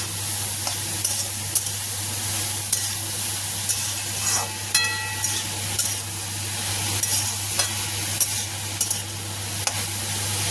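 Fish coated with turmeric and salt is stirred in a frying pan, with a constant sizzle under a steady low hum and regular spatula scrapes and taps spaced a second or two apart.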